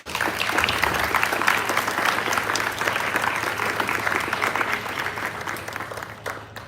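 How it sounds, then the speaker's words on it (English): Sustained applause from a seated audience at a school leadership summit, welcoming the incoming executive council; dense, steady clapping fills the room for several seconds with a little crowd murmur underneath. "Please join us in welcoming them with a big round of applause."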